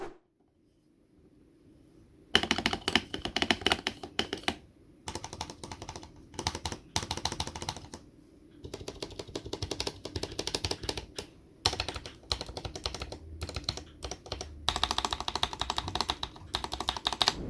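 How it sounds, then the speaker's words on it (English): Typing on a Gamakay K61 keyboard with Feker Holy Panda switches and lubed stock stabilizers: quick, crisp keystroke clatter arrives in bursts with short pauses between them, close up and with no voices. "I think these came pretty well out for stock stabs,"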